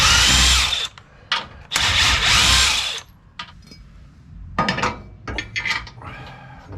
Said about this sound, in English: I like to hit them with an impact wrench and kind of just run them all the way through.